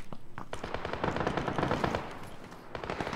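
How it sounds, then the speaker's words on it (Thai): Rapid automatic gunfire from an online shooter game, PUBG-style, rattles in dense close bursts with a short lull near the end before the firing resumes, loud and without speech. "ปืนมันลั่น"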